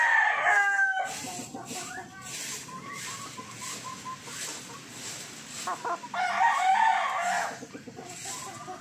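Several chickens cluck and chatter nearby, with a rooster's crow rising clearly near the start and again toward the end.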